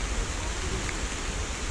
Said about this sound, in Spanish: y ya está lloviendo bastante